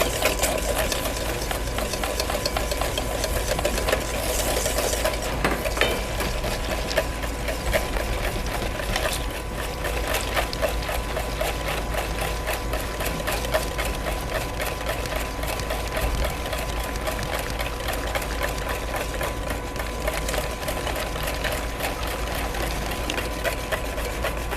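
A blender runs steadily, blending a cooled butter mixture in a demonstration kitchen, a continuous loud whirring drone that holds the same pitch without a break.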